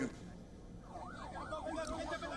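Ambulance sirens wail through chaotic night streets at an attack site in Rafah, the rising and falling tone looping steadily at mid distance over crowd noise and traffic.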